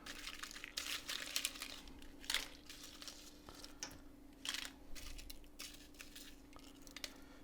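Dried guajillo chilies crinkling and crackling as they are handled beside a cast iron pan, a close, faint series of papery rustles with no talking.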